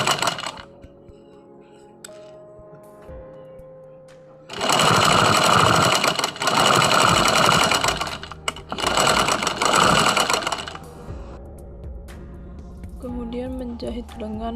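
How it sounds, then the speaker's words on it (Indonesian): A sewing machine runs in two long bursts of rapid, steady stitching along a pinned sleeve seam, close and loud, with quieter handling sounds and brief pauses between. "Setelah itu menjahit sisi lengan yang sudah dipentul."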